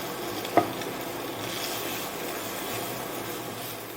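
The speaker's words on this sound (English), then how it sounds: "I'm going to stir it in here and let it cook to get the rawness out of it." A pan of onions for hamburger steak and gravy is stirred after flour goes in, a soft continuous sizzle with a gentle scraping, one brief knock near the start, faint and close, with no talk.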